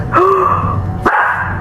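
A pet dog reacting to something outdoors on a still, windless night, giving a couple of sharp barks or yips close by, with a brief pause between them and no talking.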